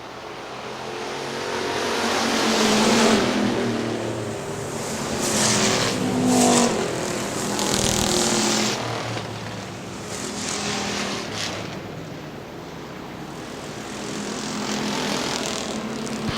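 Factory stock cars racing at Hartford Speedway in Hartford, Michigan, engines roaring continuously as the pack passes, with the loudness rising and falling over a steady broadband drone heard from trackside.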